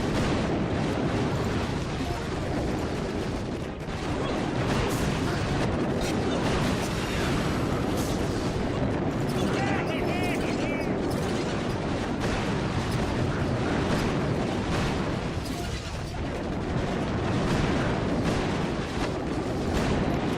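Rapid gunfire and booming explosions from a video game battle, including a freeze bomb, a dense, continuous barrage filling the whole stretch at steady high loudness with no pauses.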